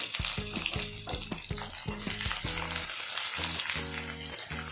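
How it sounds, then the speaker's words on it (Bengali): Chopped ridge gourd fries in hot oil with a bright, crackling sizzle, broken by repeated scraping and clattering strokes from stirring in the pan. "এবার আমরা দিয়ে রাখবো কেটে রাখা ঝিঙে।"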